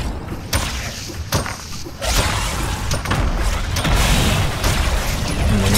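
Several grenades stacked together detonate in Fortnite, a run of loud booms and thuds with mechanical clatter, dense and continuous near the listener with no talking.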